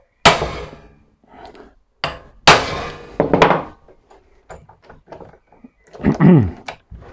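Hammer blows on an impact screwdriver loosening screws on a Honda CB 350 motorcycle, several sharp, loud metallic strikes spaced irregularly, close up, with brief quiet speech between them.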